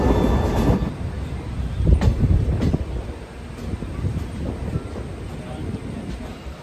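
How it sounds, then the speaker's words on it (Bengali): A local passenger train runs through Punjab with a steady rumble and rattle of carriages, loudest early on and then easing into a lighter clatter with wind noise. "লোকাল ট্রেনে এখানে মোটামুটি ফাঁকাই যাচ্ছে"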